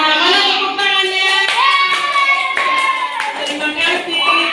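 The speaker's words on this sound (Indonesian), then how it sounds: "Mana tepuk tangannya?" Children clap their hands in a classroom at a school in Banda Aceh, with uneven claps mixed under young voices calling out and singing along.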